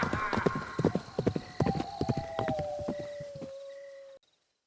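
A black horse gallops past in an audio drama effect, rapid hoofbeat clip-clops close and loud, with a neigh mixed in, fading out as the horse passes.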